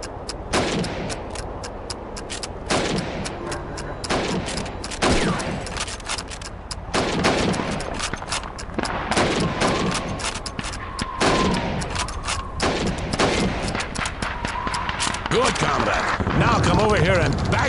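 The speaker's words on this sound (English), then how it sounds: "You have 15 seconds to shoot the helmets." Rifle shots aimed at helmets during training in the video game Call of Duty 2 crack out repeatedly in sharp, loud reports amid background gunfire, with a voice speaking over parts of it.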